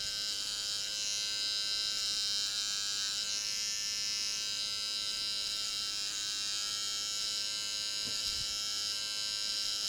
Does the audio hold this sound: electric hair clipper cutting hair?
yes